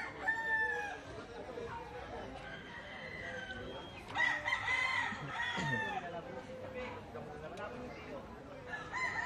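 A rooster crows and chickens cluck nearby, with people chattering in the background throughout.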